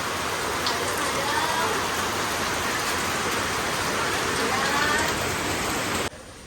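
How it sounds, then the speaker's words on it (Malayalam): Heavy monsoon rain, a loud, dense, continuous hiss and patter of downpour that cuts off abruptly near the end, no voices heard. "നല്ല മഴയാണ് കേട്ടോ, അടിപൊളി മഴ, പെരും മഴ"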